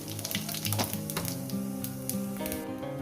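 Whole garam masala and cumin seeds hit hot mustard oil, crackling and sizzling in a steady close hiss with small pops, alone without speech.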